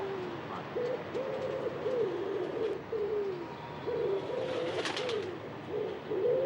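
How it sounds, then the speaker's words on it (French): Pigeons cooing on Paris rooftops, repeated soft low coos in a steady rhythm close by, with a brief higher chirp burst near the end over faint outdoor ambience. "À Paris, depuis les années 90, on croise des espèces d'oiseaux de plus en plus inattendus."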